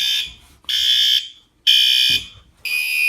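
Firelite ES-50X addressable fire alarm panel sounding loud, shrill electronic alarm tones in four bursts, each about half a second to a second long, separated by short gaps and heard up close with no talking.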